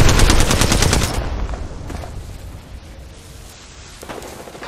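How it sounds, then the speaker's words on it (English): Rapid automatic gunfire in Apex Legends, a dense loud burst at the start that fades into softer scattered shots and game ambience, with a brief renewed burst near the end. "Opening fire on the enemy"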